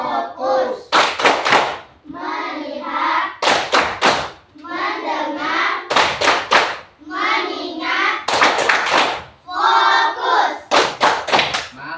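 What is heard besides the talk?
class doing rhythmic focus clap (tepuk fokus)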